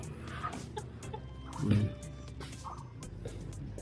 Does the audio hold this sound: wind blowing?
no